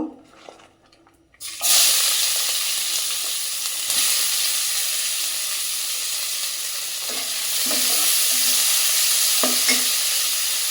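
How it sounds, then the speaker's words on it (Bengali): Fish fries in oil in a pan. After a quiet start, a loud, steady sizzle begins and continues, with a few soft knocks and clinks of utensils near the end. "মাছ ভাজার তেলেই আমি কিন্তু মশলাটা কষাই নিব"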